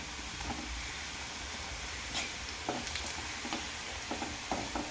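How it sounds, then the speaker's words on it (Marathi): Kapanya sweet pieces deep-frying in hot oil give a steady, fairly soft sizzle and hiss with a few faint clicks and stirring taps spread through it, with no voices. "तेलही छानपैकी तापल्यामुळं आपल्या कापण्या लगेच तळून झालेल्या आहेत"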